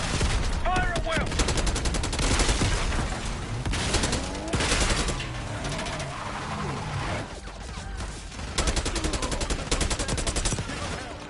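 Heavy gunfire in the Black Ops 6 campaign approaching the Palace Gate, with dense bursts of automatic fire and scattered shots over a constant battle din, loud and continuous with brief lulls.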